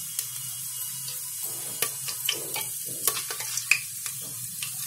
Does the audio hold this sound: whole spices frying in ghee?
yes